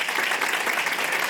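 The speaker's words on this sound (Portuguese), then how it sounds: "Pode aplaudir, gente." An audience at an entrepreneurship panel claps in a brief, dense burst of applause, close and fairly loud.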